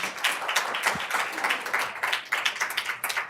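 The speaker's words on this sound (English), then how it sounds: "We'll still give them a round of applause." An audience in a board meeting room applauds a boys volleyball team with a short burst of steady, moderately loud clapping from many hands.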